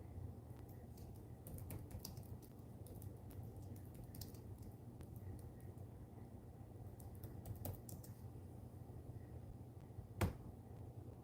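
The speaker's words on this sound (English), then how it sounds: "2 seconds while I type something in here." Quiet, fast tapping on a computer keyboard comes in uneven bursts over a steady low hum, with one sharper click near the end.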